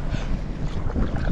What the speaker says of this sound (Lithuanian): vėjelis pučia ir mane suka atgal